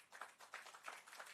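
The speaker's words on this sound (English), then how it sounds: "a big round of applause" Audience applause for the Prime Minister at a KFC grand opening in Jamaica, a steady patter of clapping from a crowd, faint and somewhat distant, without voices.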